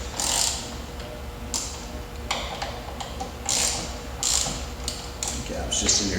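Ratchet tightening the handguard clamp on a snowbike, a series of rapid clicking bursts with short pauses between strokes, close and fairly loud.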